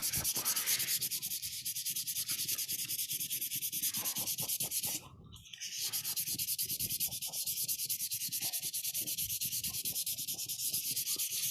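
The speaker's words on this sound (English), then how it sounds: "So I'm just going to go ahead and sand with the grain again here." Wood being sanded with the grain by hand, a steady rasping rub that runs continuously and evenly, close and fairly loud, with one brief pause near the middle before the strokes resume.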